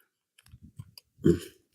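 PVS-14 night vision monocular locking onto a helmet mount: a few soft, small clicks, then one sharper, louder clack as it snaps into place, close and alone.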